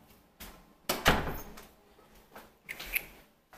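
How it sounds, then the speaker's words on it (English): An indoor door is pushed shut with a solid thunk near the one-second mark, followed by softer bumps and a faint rattle like keys or a latch, all close and without talk. "Hold on, I'm going to shut this door."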